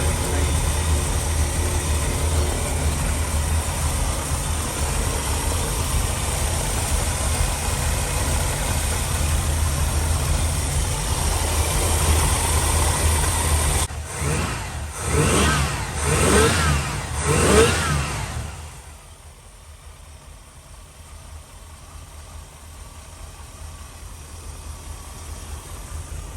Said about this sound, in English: There's the truck running after I put the camshaft in it. Notice a little bit of lope there at idle.